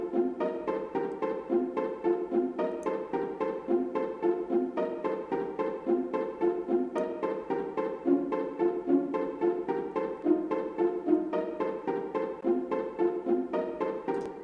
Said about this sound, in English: pizzicato, which is nice, which is this one here, which again is from BBC Symphony Orchestra